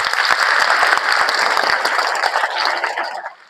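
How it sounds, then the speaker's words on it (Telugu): Children clapping for themselves at a church children's retreat, a loud, dense burst of many hands that holds steady, then thins and dies away near the end. "మీకు మీకే చప్పట్లు కొట్టుకోండి ఒకసారి"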